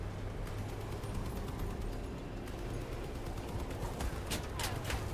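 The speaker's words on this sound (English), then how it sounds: "Ooh, auto cannons." Autocannons fire in the vehicle combat game Crossout as dense, continuous bursts of gunfire and explosions under a loud battle din, with sharper clustered shots near the end.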